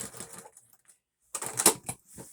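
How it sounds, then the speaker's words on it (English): A sewing machine double top stitching runs in two short bursts, a quick stitching whir, then a pause, then a louder stretch of rapid stitching up close. "We're just going to finish it off with a double top stitch."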